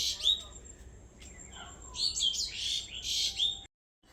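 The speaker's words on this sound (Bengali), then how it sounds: "সকালবেলা পাখির ডাক শুনতে কিন্তু খুব ভালো লাগে" Birds sing in the morning with bright, repeated chirps and trills, fairly close, in clustered bursts that stop abruptly near the end.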